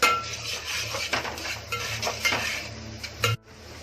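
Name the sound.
onions being sautéed in a pan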